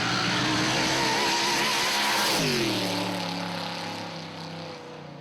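A V8 drag race car at a nostalgia drag meeting roars at full throttle, then the engine note drops sharply as it lets off and fades into the distance.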